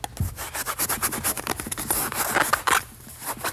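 A balloon rubbed briskly with fur in a static electricity demonstration, giving a loud, rapid series of squeaky, scratchy strokes close by for about three seconds.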